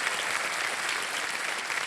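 Studio audience of a TV quiz show clapping steadily, a dense, even burst of applause close and full throughout, with no talk over it.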